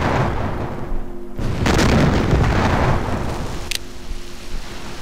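Heavy 14-inch naval guns of a Jutland battle game boom in a dense, rumbling barrage that swells midway and stays loud throughout, with a sharper burst near the end and no voices.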